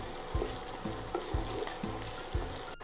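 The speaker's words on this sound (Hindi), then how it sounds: "प्याज को हम हल्का सा फ्राई करेंगे, ज़्यादा नहीं भूनना है" Onions frying lightly in a pan for restaurant-style shahi paneer, a steady sizzle with a spoon clinking and stirring about every half second, close and alone with no voices.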